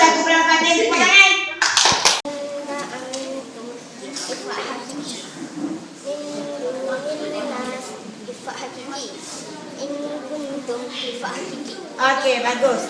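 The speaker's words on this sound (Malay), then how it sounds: "Tepuk tangan." Brief burst of classroom clapping at the start as pupils applaud a classmate during a Malay-language Quran tajwid lesson, followed by a teacher and children talking over the rest.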